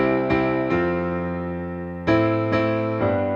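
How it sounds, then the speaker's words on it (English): Piano plays plain sustained chords in a simple progression, each struck once and left to ring, with no voices. "they'll take a chord progression like this and they'll just play regular chords"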